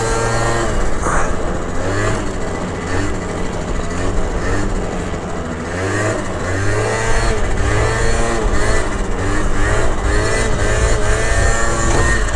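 A Honda Elite 50cc two-stroke scooter fitted with a new exhaust pipe buzzes loud and close throughout, its engine note rising and falling steadily while riding with no talk.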